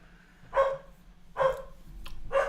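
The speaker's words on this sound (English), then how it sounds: "And that is our dog going critical mass." A pet dog barks indoors, three sharp, evenly spaced barks close to the microphone over a quiet background hum.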